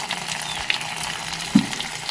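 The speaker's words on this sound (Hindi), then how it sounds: "पानी भर रही हूँ ये," Water running from a tap or pipe into a container to fill it for washing clothes at home, a steady broadband splashing flow with one brief louder clunk near the end.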